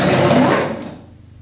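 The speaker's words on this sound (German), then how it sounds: "Rein theoretisch darf ich jetzt nicht weiter als bis zur Naht nähen." A sewing machine stitches a child's pointed hat in a short, loud, close burst of rapid whirring that runs briefly and then stops.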